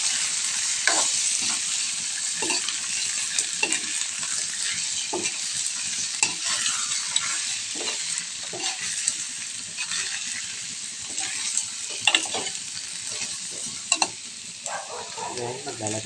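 Shrimp frying in garlic butter with browned garlic, a bright, loud sizzle with repeated bursts of stirring and scraping, and no voices.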